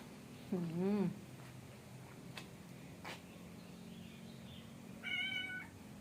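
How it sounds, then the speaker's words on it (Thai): A Persian cat and a stray cat meow indoors at home: one clear rising-falling meow near the start and a second higher, shorter meow near the end, with faint background noise between. "แมว โอ้ยร้องเป็นด้วย"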